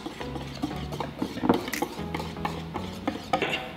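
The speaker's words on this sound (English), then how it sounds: "Whisk everything up. Make sure that there's no clumps." Batter being whisked in a bowl with a utensil scraping and clinking against the sides in quick irregular strokes, close and clear, with a low hum running beneath.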